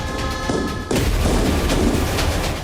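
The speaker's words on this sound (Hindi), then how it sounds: "इस दौरान पटाखे भी चलाए।" Firecrackers set off by protesting farmers clashing with police in Poland, heard as a dense run of loud booms and thuds with crowd noise, a sharper burst about a second in.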